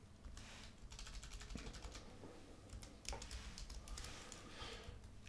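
Rapid, uneven keystrokes on a computer keyboard as an email address is entered, a steady clatter of close clicks lasting the whole stretch with no voice over it.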